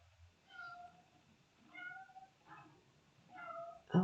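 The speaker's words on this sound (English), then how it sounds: "Oh, for Pete's sakes, the cat is back again." A cat meows repeatedly outside a door to be let in, four distinct drawn-out calls spaced about a second apart, fairly close and clear against a quiet room.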